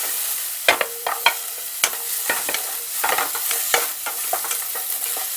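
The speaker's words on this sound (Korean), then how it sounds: "그리고 당근 샐러리 순서로 볶아주시고요. 그리고 무, 양배추 넣겠습니다." Carrot, celery, radish and cabbage stir-fried in a pan for minestrone soup, with a steady soft sizzle broken by irregular sharp scrapes and clacks of the utensil against the pan.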